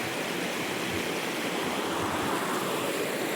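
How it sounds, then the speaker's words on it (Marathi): A river rushes over stones in a steady, dense roar of flowing water, close and constant with no pauses or other sounds. "आपण अशी नदी खाली वाहते"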